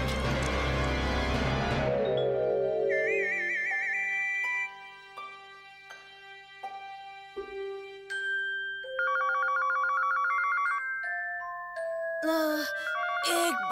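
A telephone's electronic ringtone trills in repeated bursts of bright tones, rising and shifting in pitch, with a brief musical flourish at the start.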